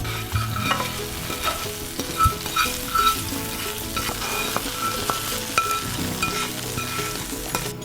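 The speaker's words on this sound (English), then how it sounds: "I'm gonna go ahead and add in our seeds to the rest of the mixture" Seeds for a sweet chutney sizzle in hot oil as they are stirred into the mixture, a steady close frying hiss broken by scraping strokes and occasional light clinks of the utensil against the pan.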